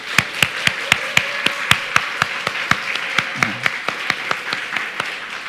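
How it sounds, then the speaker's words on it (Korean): A church congregation claps to bless the worship team, sharp distinct claps in a steady, fairly even rhythm, close and crisp over a faint room murmur. "특별히 이렇게 불협화음이 있는데도 불구하고 헌신하는 우리 찬양팀을 위해서 우리 박수로 한번 축복하겠습니다"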